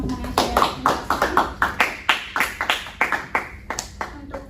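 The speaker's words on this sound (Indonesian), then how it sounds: "kita beri tepuk tangan dulu untuk teman-teman yang sudah menjelaskan" Classroom applause for student presenters: a small group clapping in uneven, separate bursts at close range, each clap sharp and distinct, with no talking over it.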